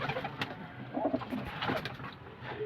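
A pigeon coos in soft, repeated throaty calls, close by, with faint background noise and no talk.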